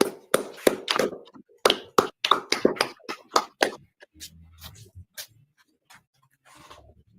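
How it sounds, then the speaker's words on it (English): A small group claps together in a room, producing a quick run of loud, sharp claps for about four seconds, then a few scattered softer claps that taper off. "All right, clap it up."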